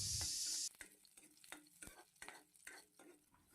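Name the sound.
green chillies frying in a kadai with leafy greens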